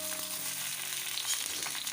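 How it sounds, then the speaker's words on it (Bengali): Eggplant frying in a pan, a steady soft sizzle that holds level and close throughout, with no voices over it. "বেগুনটাকে একটু ভেজে নিয়ে এটা বেগুনের ঝাল করে দেবো।"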